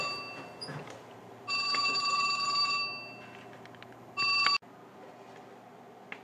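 A cell phone rings in two bursts of bright electronic tones, the first lasting over a second and the second shorter, over a quiet room background.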